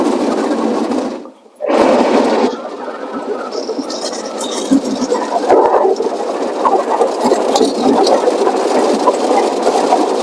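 An automatic car wash machine in Japan runs loudly and continuously, a dense mechanical whir and rush that drops out briefly near the start before resuming at full strength.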